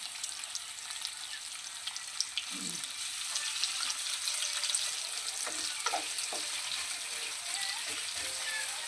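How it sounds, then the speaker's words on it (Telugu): Sliced onion with green and dried red chillies frying in a pan, giving a steady broad sizzle throughout with a few stirring clinks and scrapes, close and moderately loud, no talking. "వీటిని పచ్చివాసన పోయే వరకు అయితే ఫ్రై చేసుకోవాలి"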